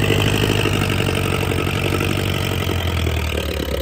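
A modified 4x4 tractor engine running close by, a loud steady diesel throb with a regular low pulsing beat that holds throughout.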